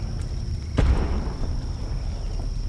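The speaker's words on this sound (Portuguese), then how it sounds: "Pareceu um tiro." A single sharp shot-like crack rings out once across a quiet night forest campsite, set against a steady low rumble and hiss of ambient noise.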